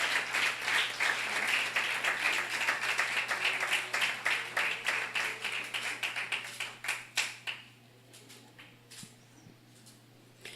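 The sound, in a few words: congregation applauding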